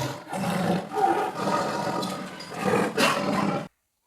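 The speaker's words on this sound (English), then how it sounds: "tiger" A tiger roars loudly and close, a continuous rumbling bellow that surges twice more before cutting off abruptly, with silence after.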